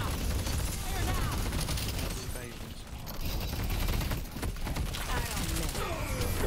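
Minigun fire in Deadlock, a continuous, dense, loud roar of rapid shots running throughout, mixed with other game effects and voices talking over it.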